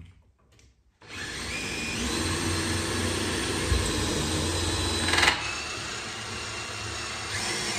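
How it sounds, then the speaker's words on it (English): A power drill bores through a wall, starting abruptly after a second of near silence and then running as a loud, continuous high whine with slight changes in load and one brief surge near the end. "I'm gonna drill first through it"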